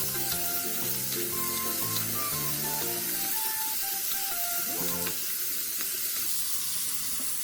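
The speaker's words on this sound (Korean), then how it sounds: "기름을 두르고 썰어 놓았던 감자를 넣어 투명해질 때까지 볶아주세요." Sliced potatoes and carrots stir-frying in oil in a pan, a steady close sizzle and hiss throughout, with light music playing over it.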